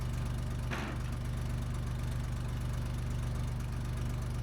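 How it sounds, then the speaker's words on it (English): A 1970s bulldozer engine idles steadily nearby, a loud, even diesel rumble with a regular low knocking pulse and one brief clank partway through. "Let it stay right there and let it idle."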